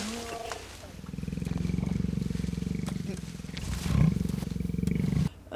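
A lion roars in a scene from the 2003 film Secondhand Lions, a loud, drawn-out growling roar with a sharper swell near the end, with other people talking over it.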